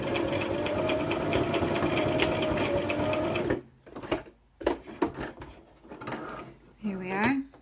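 A sewing machine runs fast and continuously while stitching a double-layer pleated face mask, then stops. Clicks and handling clatter follow, and a voice briefly speaks near the end.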